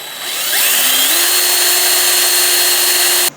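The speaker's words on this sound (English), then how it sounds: "take your 1/8 inch drill bit, drill an 1/8 inch pilot hole through the top." A power drill with a sharp 1/8 inch bit bores a pilot hole through the roof of an International Scout Traveler for a roof rack install; the motor winds up, holds a loud steady whine for nearly three seconds, then cuts off abruptly.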